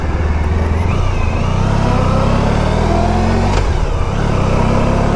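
A 1994 Honda ST110 motorcycle engine drones steadily and loudly while riding, a continuous low mid-range hum with rumbling wind noise and slight rises in revs, no talking.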